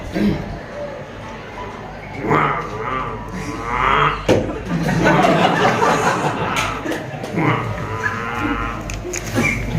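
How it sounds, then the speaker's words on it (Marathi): A hungry cow lets out loud, drawn-out moos nearby while people talk and chuckle around it. "गायला भूक लागली म्हणून तिने ओरडायला सुरुवात केली"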